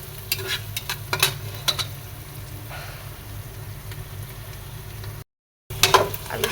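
A whole potato frying with spices for biryani gives a steady, close sizzle, broken by scraping stirs from a spoon in the pan and a brief gap of silence near the end.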